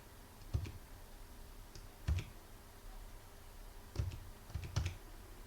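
Keys on a Logitech K830 keyboard are tapped in short bursts while entering a Bluetooth pairing code, a few separate clusters of close, crisp clicks with quiet gaps between them.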